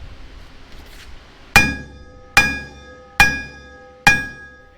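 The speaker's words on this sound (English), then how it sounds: "With a combination of tension from the puller and some shocks with the sledgehammer, the sprocket finally starts to let go." A sledgehammer strikes a sprocket on a final drive housing held under tension by a puller, four loud ringing metallic blows evenly spaced, each with a bright decaying clang, close up and with no talk.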